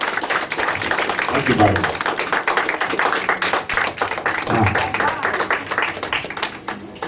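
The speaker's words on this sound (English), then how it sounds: "Come on, everyone clap and stand up." Audience applause for performer Barbara A. Stone at a live Viva NashVegas radio show, a steady dense clapping from a crowd throughout, with someone talking over it.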